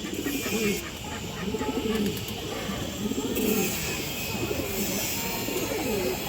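A male green fancy pigeon coos in a steady, repeating series of low, throaty calls close by, over a constant hiss of background noise.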